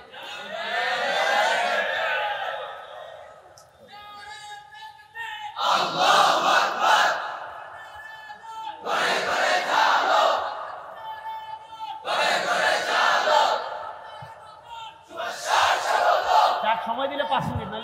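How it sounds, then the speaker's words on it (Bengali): A large religious gathering shouts takbir in unison, five loud massed bursts of voices that rise and fall with short gaps between them, close and reverberant. "এজন্য তাকবীর দেন"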